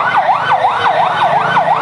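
A loud, close wailing siren rises and falls in a fast, regular cycle as a fire service and civil defence unit arrives at a large fire in Maijdi, Noakhali.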